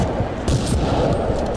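Shotgun blasts in a video game event, dense loud booming fire blended into a continuous roar of heavy shots with no clear gaps.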